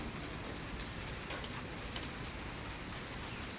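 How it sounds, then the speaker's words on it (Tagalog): Steady rain during a low-pressure typhoon-season downpour, a dense, even hiss of drops on surfaces with no pauses, fairly close and uniform throughout. "Umuulan na naman."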